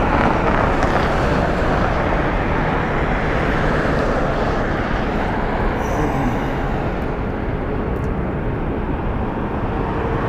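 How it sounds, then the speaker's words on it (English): A Southwest Boeing 737-700 departs Las Vegas airport, its engines giving a steady, loud broadband roar that fills the whole stretch with little change and no voices. "Departing next is Southwest 3414 going to Santa Ana, California is a Boeing 737-700."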